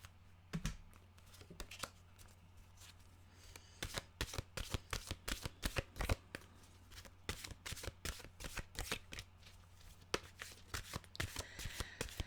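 Oracle cards are shuffled by hand before a mantra card is drawn, making dense bursts of crisp riffling and tapping up close. The shuffling is faint at first, then busy and continuous, over a low steady hum and no talk.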